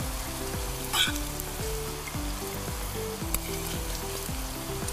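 Fried rice sizzles steadily in a frying pan, a continuous crackling hiss broken by a few soft scrapes, and low background music plays underneath.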